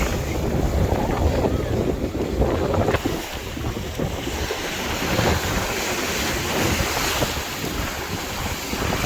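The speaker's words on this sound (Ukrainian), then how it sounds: "Тут дуже сильний, сильний вітер." Strong wind buffets the microphone with a constant roar by a lighthouse on the coast, with surf and waves churning underneath.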